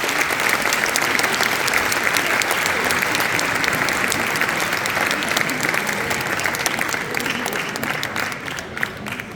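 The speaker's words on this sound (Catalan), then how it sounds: "Un fort aplaudiment, sisplau, gràcies" Dense, sustained applause from an audience at a Festa Major town celebration in Gurb, filling the whole stretch steadily and tapering slightly near the end.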